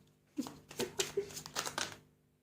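Tarot cards are shuffled and laid down on a surface, a quick run of soft papery slaps and riffles that comes close and moderately loud, with faint voice-like murmurs in the background.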